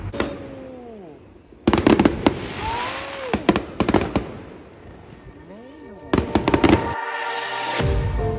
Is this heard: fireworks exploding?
yes